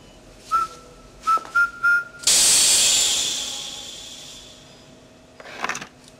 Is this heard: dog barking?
no